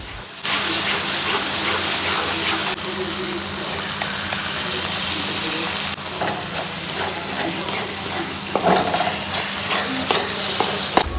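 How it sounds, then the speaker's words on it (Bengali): Chepa shutki, a dried fish, fries in a pan with its gravy, giving a loud, steady sizzle with intermittent scraping and stirring clatters close by. "চাপা শুটকি বাগার করা শেষ, মাত্র 2 মিনিটে কিন্তু সুন্দর হয়ে আছে।"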